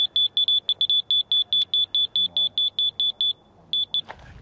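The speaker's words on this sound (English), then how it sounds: "Beep slow if you're too high, and it'll beep fast if you're down too low." A laser level receiver emits a rapid series of high, piercing electronic beeps in a steady pulse, pauses briefly, then resumes with a couple more before a faint clatter.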